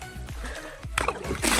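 Irrigation water gushing out into a field channel for Guinea grass, rhythmic splashing and sloshing that grows louder and more turbulent toward the end.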